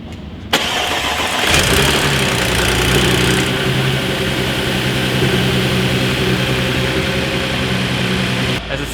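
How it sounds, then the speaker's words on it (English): An Audi S4 that had sat in a parking lot for two months cranks briefly, then catches and settles into a loud, steady idle with a low rumble, heard up close. "That's the sound of an engine that hasn't ran in a while because it's been sitting in the parking lot for 2"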